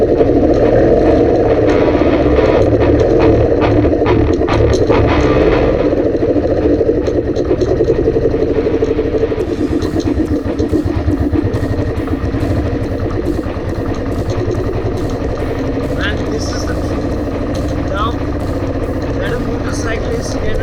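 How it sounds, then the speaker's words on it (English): A heavy Royal Enfield Bullet Classic motorcycle rumbles steadily on an off-road trail, its loud low engine thump continuous throughout, with a voice talking over it. "it was my very first time doing a complete kind of off-riding on this heavy motorcycle"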